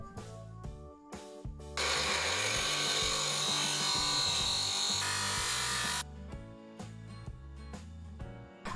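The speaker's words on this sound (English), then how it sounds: "I go over to my bench grinder and start to grind the profile" A bench grinder works the rough profile of a forged knife blade, a loud sustained hissing grind lasting about four seconds in the middle, with quieter workshop noise and music-like tones before and after.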